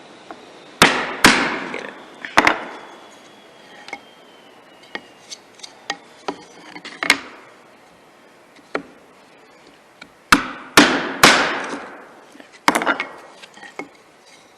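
Sharp mallet blows on a chisel chopping out waste between dovetail pins in wood, a dozen or so crisp knocks in irregular clusters with quiet gaps, close and loud; a brief spoken word occurs.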